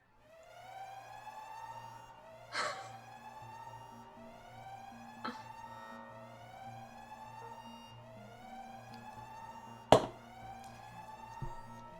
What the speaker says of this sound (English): I turned on the fire alarm.